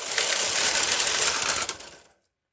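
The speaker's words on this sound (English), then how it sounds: "Knit across again for row 156." A knitting machine carriage is pushed across a row of bulky knitting, a steady whirring mechanical rattle for about two seconds that stops abruptly, close and moderately loud.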